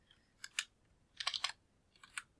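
Three short bursts of typing on a newly swapped computer keyboard, quick clustered key clicks close up in a quiet room, with no talking.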